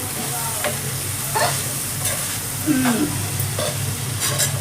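Gherkins sizzle steadily in a hot pan, a constant frying hiss broken by occasional stirring scrapes, with no one talking.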